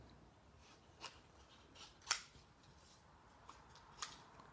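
Scissors trim a piece of paper beside an ink stamp, giving a few quiet, separate snips spread across several seconds, with one sharper cut in the middle, over a near-silent room.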